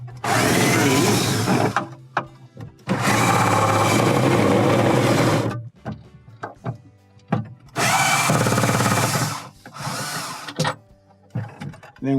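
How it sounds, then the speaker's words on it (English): Power drill loosening screws on a Hotpoint refrigerator's control assembly, heard in several long, loud whirring bursts separated by brief pauses and small clicks, with no talking. "So let's unscrew the screws."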